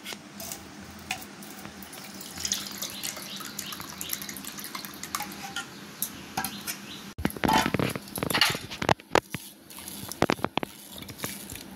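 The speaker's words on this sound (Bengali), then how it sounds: "এবার আমি ছেঁকে নেবো এই ছাঁকুনি দিয়ে।" Homemade mango sherbet is poured through a kitchen strainer, a steady trickle and splash of liquid at first, then a louder burst of pouring and clinking toward the end.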